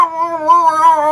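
A comedian imitates a cat with a drawn-out, wavering meow, loud and close, delivered alone as a single sustained vocal yowl.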